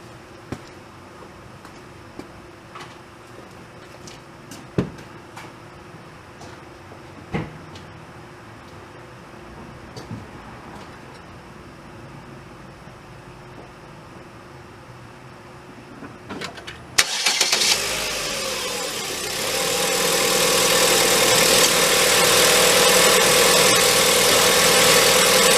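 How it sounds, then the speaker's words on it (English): A Chevrolet Cruze LS 1.8 sits quiet amid small clicks and taps before its engine cranks and catches, then settles into a steady, loud idle that runs to the end with no talk. "I'm going to go ahead and start it up right now."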